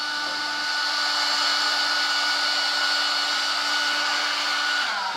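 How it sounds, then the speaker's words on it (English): A hair dryer blows warm air to dry the lace base of a hair replacement system, a steady close whooshing hum held for several seconds with no talk. "I'm just gonna put a little bit of warm air to dry the lace a little bit."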